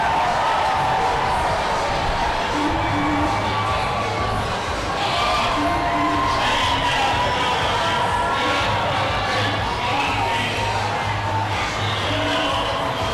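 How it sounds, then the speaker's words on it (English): Crowd at a Pride diversity parade in Tampa, yelling and cheering over a continuous wash of noise, with scattered shouts rising and falling throughout and voices mixed in. "They're yelling something. Let's listen to that."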